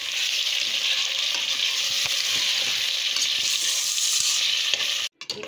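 Beef frying with tomatoes and onions in a pot, a dense continuous sizzle up close with faint stirring knocks, briefly cutting out near the end.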